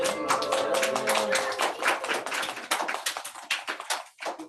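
Church members clap for their Sunday school teachers at a year-end worship service, a lively burst of many hands that gradually thins out and trails off into scattered claps.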